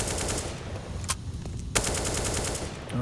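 Rapid gunfire during a professional Counter-Strike match on the Overpass map, a steady stream of shots with a couple of sharper, louder bursts standing out over constant background game noise.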